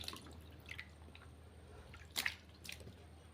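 Faint, sparse drips of water from cotton clothes soaking in a tub of alum and salt water, a few soft isolated plinks in a quiet room.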